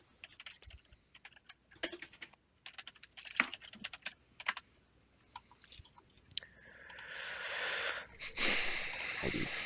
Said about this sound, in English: Let's let everybody tap their keyboard as hard as possible